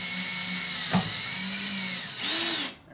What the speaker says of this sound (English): Mark them and then pre-drill.